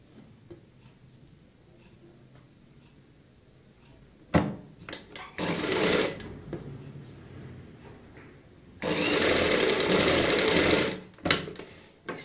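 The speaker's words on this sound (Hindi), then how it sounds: "और यहां पे एक पैर चौड़ाई वाली सिलाई लगाएंगे।" A sewing machine runs in two bursts of fast, steady stitching, sewing a neck strip onto a kurti. Short clicks and handling sounds fill the gaps between the bursts, and nobody speaks.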